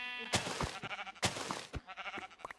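Sheep in the Minecraft video game bleat in two loud, drawn-out calls about a second apart, followed by shorter game noises, with no talking.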